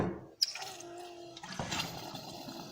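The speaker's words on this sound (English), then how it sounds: "I've got a kitchen sink here with running water." Water running from a kitchen sink tap in a squat dwelling, fed by a 55-gallon drum; a steady close trickle and splash that starts abruptly and continues without talk.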